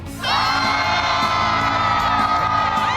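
A large crowd in Texas at a home rebuild reveal cheers, whoops and yells together in a loud, sustained roar that swells right after the start and holds steady to the end.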